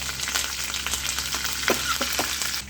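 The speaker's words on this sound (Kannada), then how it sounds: "ಕೆಂಪನ ಮೆಣಸಿನ್ಕಾಯಿ, ಬೆಳ್ಳುಳ್ಳಿ ಹಾಕಬೇಕು, ಕರಿಬೇವು ಹಾಕಬೇಕು." Red chillies, garlic and curry leaves sizzle in hot tempering oil along with mustard and cumin seeds for dhaba-style dal fry, giving a steady loud frying hiss with scattered crackles close up.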